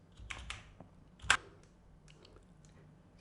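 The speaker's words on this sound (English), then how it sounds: "So hit Control plus a spacebar for search box and search for defocus." A few light computer keyboard keystrokes, a Control plus spacebar shortcut, with sparse soft clicks and one sharper tap, close and quiet with no talk.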